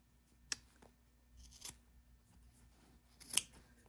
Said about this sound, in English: So I'm trimming the body of the coat by half at this point.